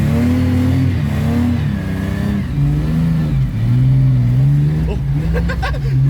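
A BMW E30 wagon's engine revving hard while drifting, close and loud with rising and falling pitch and brief tyre squeal near the end.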